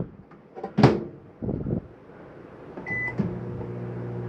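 A microwave door in a 2023 Jayflight 274BH travel trailer clunks open and shut nearby, followed by the steady hum of the oven running with a faint tone.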